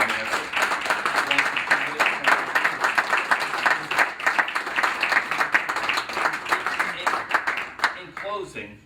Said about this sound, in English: let's just applaud all of them for their time and effort